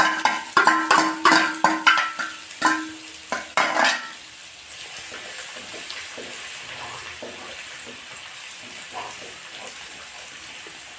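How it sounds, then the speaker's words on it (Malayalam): Ginger, garlic and curry leaf paste frying in hot oil for a fish pickle, with a series of loud, close clanks of stirring at the start, then a steady sizzle carrying on alone. "അതിനുശേഷം എണ്ണ ചൂടായതിന് ശേഷം അതിലേക്ക് നേരത്തെ ചതച്ച് വെച്ച ഇഞ്ചി, വെളുത്തുള്ളി, കറിവേപ്പില പേസ്റ്റ് ഇട്ട് കൊടുക്കും."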